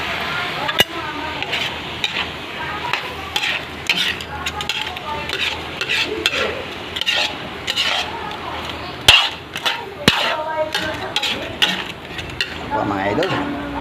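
Eggs frying with bitter melon (ampalaya) in a pan, a steady sizzle broken by repeated scraping and stirring strokes and a few sharp clinks of a utensil against the pan, close and continuous.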